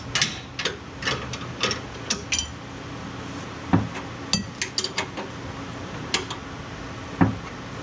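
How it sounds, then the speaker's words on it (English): A ratchet tightens the center bolt on a Garagistic secondary differential mount: a few scattered bursts of sharp metallic clicks, close and moderately loud, separated by short pauses. "Now we're just gonna tighten that center bolt and then we should be set."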